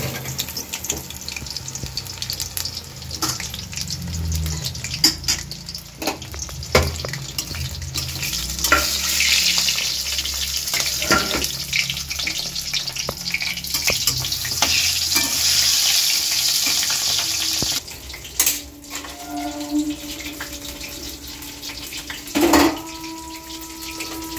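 Topse fish fry in hot oil in a home kitchen pan, a steady crackling sizzle under repeated stirring and scraping. Near the end the sizzle quiets and a few sharp clinks of utensils follow, with no one speaking.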